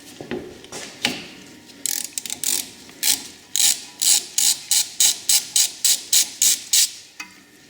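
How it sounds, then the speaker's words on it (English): A ratcheting wrench works loose a brake caliper bolt on a Dodge, starting with a few scattered clicks, then settling into a loud, close run of regular ratchet bursts that ends with a final click, with no speech. "grab yourself the suitable size spanner, slot that in there, and that'll allow you to carry on"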